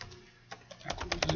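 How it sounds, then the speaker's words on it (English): A search being typed on a computer keyboard: quiet key clicks, sparse at first and then speeding into a quick run of taps close to the microphone. "And then let's type in second language"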